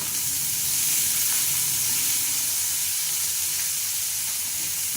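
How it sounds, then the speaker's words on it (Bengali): Chopped onions fry in hot oil, giving a steady, close, continuous sizzle and hiss that holds even throughout, with no talking over it. "দেখো কুচি করা আছে পেঁয়াজগুলো দিয়ে দেবো তেলে দিয়ে আমি ভেজে নেবো পেঁয়াজটা"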